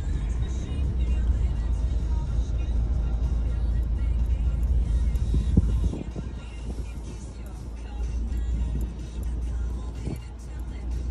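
Steady low engine rumble and road noise from inside a moving car, continuous throughout with slight shifts in intensity.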